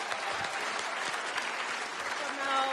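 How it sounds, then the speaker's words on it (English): Studio audience applauding on a television game show, a dense, continuous patter of clapping with a faint voice underneath near the end. "Round of applause, Melanie."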